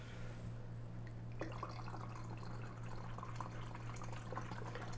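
A whole bottle of Pellegrino soda water pours into a hollowed watermelon keg, a soft trickling and fizzing liquid sound that starts faintly and grows fuller, steady throughout over a low constant hum.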